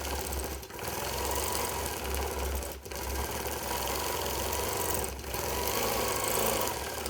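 Longarm quilting machine stitching in the ditch along applique while quilting the background, a steady, loud mechanical whir and rapid needle chatter with three brief dips in speed, no voices.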